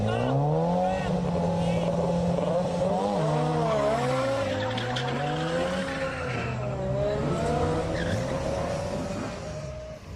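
Old modified cars, a 240Z and a Hakosuka Skyline, battle in an illegal street drag race on a rough Nagoya road, engines revving and rising loudly with tire squeal over a steady, near roar.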